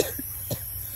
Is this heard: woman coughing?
yes